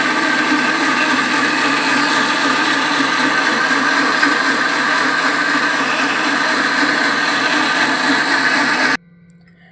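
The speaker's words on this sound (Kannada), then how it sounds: "ಮಿಕ್ಸಿ ಮಾಡುವಾಗ" A mixer grinder whirs loudly and steadily as it grinds idli batter to a coarse texture, then shuts off abruptly near the end, leaving near silence.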